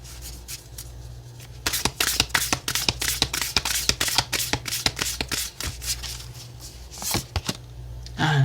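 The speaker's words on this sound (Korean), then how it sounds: "오라클 카드도 좀 보도록 할게요." Oracle cards shuffled by hand for a weekly tarot reading: a close, rapid run of crisp papery riffles and slaps, loudest in the middle stretch, with no talk over it.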